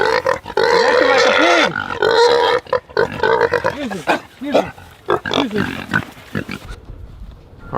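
Sick feeder pig on a homestead, now recovered, grunting repeatedly in short bursts close by, mixed with other farm noise and voices talking.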